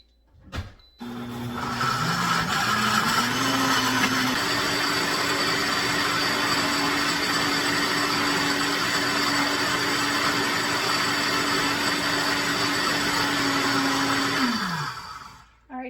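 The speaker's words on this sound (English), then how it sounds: "I think this blender works pretty good because the other blender I use would have never been like this" A kitchen blender purees ingredients for birria: a click, then the motor spins up in steps to a loud, steady whir, runs for about twelve seconds and winds down.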